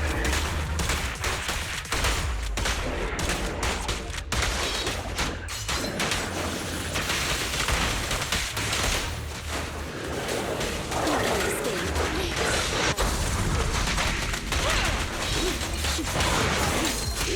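Gunfire in the video game Zenless Zone Zero rattles on continuously, loud and dense, with rapid overlapping shots and mechanical clatter filling the whole stretch.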